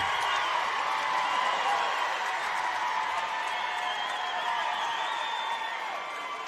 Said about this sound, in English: A roar from the Enterprise crowd as they applaud their team for punching their ticket to tomorrow night's state championship game